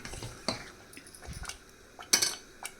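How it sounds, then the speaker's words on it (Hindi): Sarson ka saag, mustard greens, cooked in a pot and stirred with a metal spoon: a few scattered clinks and scrapes of utensil against the pan, fairly quiet and close, with no talking. "ये साग को हम बीच बीच में चलाते हुए इसे पका लेंगे।"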